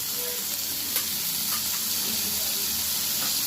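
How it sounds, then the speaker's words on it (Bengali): Onion paste hits hot oil in a pan just used for frying potatoes, for a masoor dal and potol dish, setting off a loud, steady sizzle with hissing and occasional faint stirring scrapes. "এবারে আমি পেঁয়াজ বাটাটা দিয়ে দিলাম"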